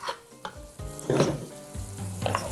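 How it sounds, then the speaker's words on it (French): Onions sizzle and crackle in a hot tnejra pot while being stirred, with scraping spoon strokes and soft metallic clinks against the pot, close and fairly loud, no voices. "Je garde un œil sur ma tnejra, toujours à remuer. Pour pas carboniser les oignons."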